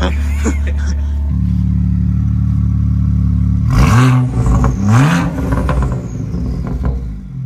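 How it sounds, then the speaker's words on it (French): A BMW M car with its exhaust valve open idles at a steady rumble, then takes a few quick throttle blips that swell into loud revving and fall back, close by, with voices talking over it. "Tu peux nous mettre 2-3 petits coups de gaz qu'on puisse se rendre compte un peu? Valve ouverte bien sûr."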